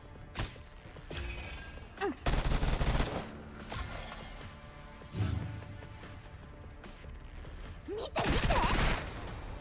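Bursts of gunfire from Girls' Frontline 2: Exilium come in several loud volleys at irregular gaps, broken by sharp cracks and whooshing swells. The firing stands mostly alone, with faint game sounds in between.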